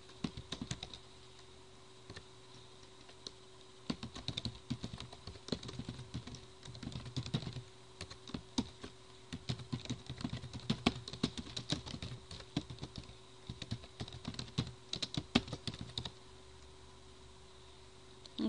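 Typing on a computer keyboard while entering data in Microsoft Word, a long run of quiet, irregular key clicks in bursts and pauses, close by and faint, with no voice.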